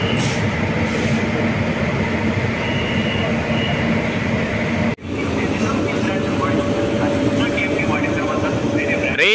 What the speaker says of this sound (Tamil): இந்த லோகோமோட்டிவ் பார்த்தீங்கன்னா WAP5 டைப்பில் வருது, ஹவுரா லோகோ ஷெட்டுடைய WAP5